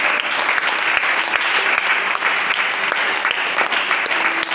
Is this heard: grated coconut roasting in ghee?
no